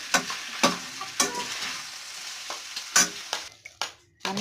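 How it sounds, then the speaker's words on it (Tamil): Squeezed leftover rice is stirred into a tempering in a pan, giving a series of scraping, clattering spoon strokes at an uneven rhythm over a faint sizzle, close and moderately loud. "நம்ம புழிஞ்சி வச்ச சாதத்தை அதோட சேர்த்து நல்லாவே கிளறி விடணும்"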